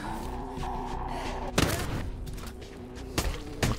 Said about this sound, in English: Okay, so that's the sound of blowing up zombies.